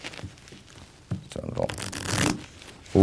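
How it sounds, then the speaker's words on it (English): A deck of playing cards split into red and black halves is riffle shuffled with a popover technique, the cards buzzing and riffling loudly in bursts before being squared together, with brief talk in the background. "This is the popover riffle shuffle"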